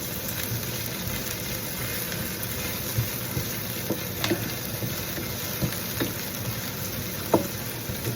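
Chopped onions sizzle steadily in a hot pan for a Filipino chicken soup with papaya and spinach, a constant frying hiss with occasional small pops and stirring clinks.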